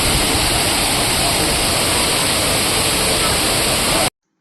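Rushing water at Anachadikuthu waterfall roars as a loud, unbroken wash of white noise close by, cutting off abruptly at the end.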